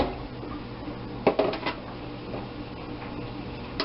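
A ceramic crock is lifted out of a slow cooker holding garlic soup. A few sharp clinks and knocks sound against a quiet kitchen background, with a last clatter at the end.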